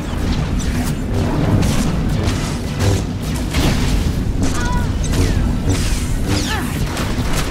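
Turrets in SWTOR's Crisis on Umbara keep firing and exploding in a dense, loud barrage of booms, crashes and whooshes, with no break in the noise.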